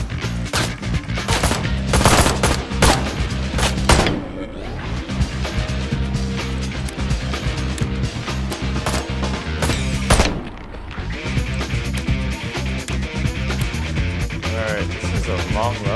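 Enemy gunfire in the action game Ride to Hell: Retribution, with dense bursts of loud automatic shots and sharp cracks coming in rapid clusters, a brief lull in the middle, then more firing. Someone talks over the shooting.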